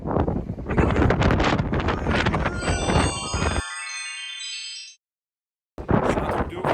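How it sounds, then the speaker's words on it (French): Strong wind on a mountain in Madeira roars and buffets the microphone in loud continuous gusts, followed by a thin tonal whine before a sudden cut to silence. "Et là d'un coup, on est en plein vent."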